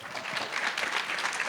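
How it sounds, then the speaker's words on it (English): An audience at a mental health panel event applauds, a dense, even wash of many hands clapping at once, moderately distant and steady throughout the short stretch. "Let's give him another round of applause."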